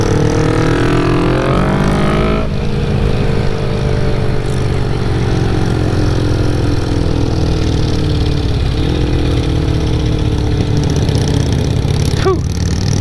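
Harley-Davidson motorcycle engines rumble steadily and close by on the Tail of the Dragon road at Deals Gap, a continuous loud idle-and-rev drone with a shift in pitch partway through.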